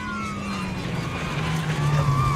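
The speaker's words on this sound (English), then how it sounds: "Very quiet car, too. It really sneaks up on you." Rally car passing a spectator corner on the Oregon Trail Rally, an unusually quiet car whose low engine drone slides gradually in pitch as it goes by, heard against a steady outdoor background hum.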